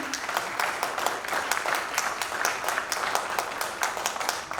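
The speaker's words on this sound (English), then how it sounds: "Can I get a round of applause?" A crowd claps steadily in applause, many hands beating together in a continuous, moderately loud patter.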